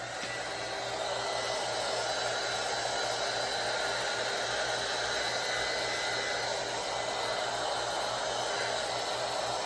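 A hair dryer blows steadily on wet paint and sand in a mixed media artwork, a loud, continuous close-up whoosh with a faint hum and no speech.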